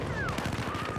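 Rapid gunfire from the Battlefield 4 video game sounds as a quick, rhythmic automatic burst, close and sharp, with a faint voice-like tone in the background.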